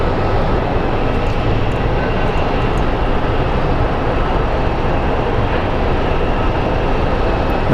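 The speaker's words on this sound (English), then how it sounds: "So Delta 461 coming from Atlanta. It's an Airbus A321-200 series" Loud, steady roar of a Delta Airbus A321-200 airliner, built in 2018, at Phoenix Sky Harbor airport, a broad continuous engine rumble and hiss holding constant without a break.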